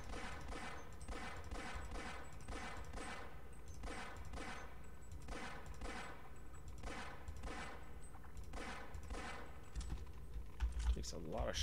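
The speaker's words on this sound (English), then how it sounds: "Takes a lot of shots to kill the bull squid" Rapid, steady bursts of gunfire from Half-Life shooting at a bullsquid, repeating in an even rhythm throughout, close and fairly loud over a constant game background.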